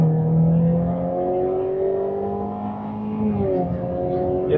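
A 2016 Jaguar XE R-Sport with a 2.0 turbo engine accelerates hard, its steady rising engine tones climbing in pitch and then shifting as it changes gear, heard from inside the car.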